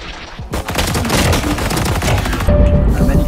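Rapid gunfire in the video game Valorant crackles in dense bursts, loud and close, for about three seconds, ending in a heavier burst.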